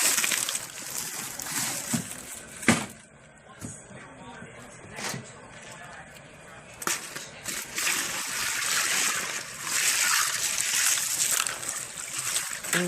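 Ice dumped into a pot of water holding boiled crawfish makes a few sharp splashes and sloshes, with steady watery trickling and low voices in the background.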